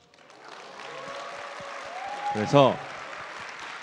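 Audience applause swells gradually at a youth talk event, a continuous soft wash of clapping that holds under a brief spoken word from a speaker.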